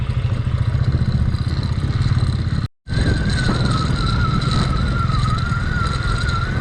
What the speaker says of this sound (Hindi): ये पहाड़ों में चला रहे बाइक भाई